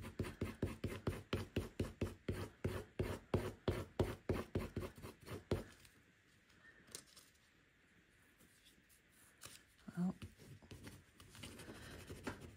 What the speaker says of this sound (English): Gotta really rub though.